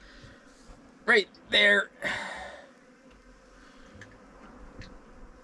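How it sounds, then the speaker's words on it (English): Bees buzz faintly around a sailboat at anchor, a thin steady hum beneath a few brief spoken words near the start. "Let these bees go away."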